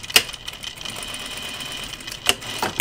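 Home sewing machine backstitching a seam on a fabric notions case, a steady close mechanical whir with sharp clicks at the start and end as the stitch direction changes.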